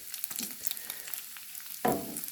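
Bacon fries in a pan with a steady, crackling sizzle and scattered pops, close and continuous, swelling into a louder hissing burst near the end.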